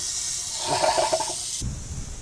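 Water runs outdoors in a close, rushing hiss that shifts abruptly to a lower, duller flow partway through, with no talk over it.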